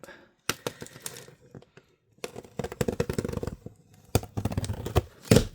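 A cardboard box holding an LED work light with tripod is cut open. Sharp rasping and crinkling come in close, uneven bursts with brief pauses, and faint scraps of voice can be heard.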